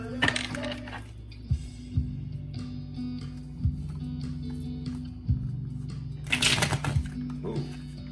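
A deck of tarot cards is shuffled in two short, close, crackling riffles, one at the start and one later, over a low steady hum with soft taps between them.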